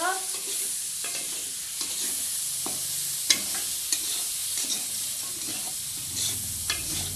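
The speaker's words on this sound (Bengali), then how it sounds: "পরিমাণ মতো নুন পরিমাণ লঙ্কা ভেজে নিব" Curry with salt and chili frying in a pan sizzles steadily, with the sharp clicks and scrapes of a spatula stirring at close range and no voices.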